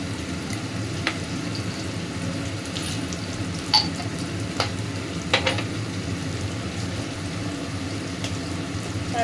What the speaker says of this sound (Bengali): এবার পনিরগুলোকে আমরা ভেজে নেব হালকা করে, খুব বেশি না, সামান্য পরিমাণে ভেজে নেব